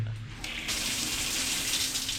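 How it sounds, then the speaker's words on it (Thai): Water gushes hard and steadily from a shower head with its spray nozzle missing in a campsite bathroom at a national park, starting abruptly and holding a loud, continuous rush. "เดี๋ยวลองเปิดน้ำดูนะ"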